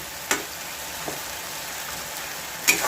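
Onion and tomato sauté with chilli powder, turmeric and coriander-cumin powder for Konkan prawn masala, a soft continuous sizzle with a few sharp utensil taps against the pan.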